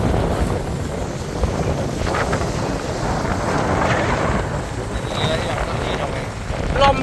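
Wind buffets a tourist boat on the Chao Phraya River in Bangkok, a steady loud rush and rumble with water noise underneath, continuing throughout.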